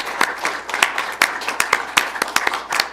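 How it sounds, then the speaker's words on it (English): Scattered applause at a school district board meeting, a modest group of distinct hand claps in an irregular patter, moderately close and unaccompanied by speech. "I think you all deserve a round of applause for this kind of stuff"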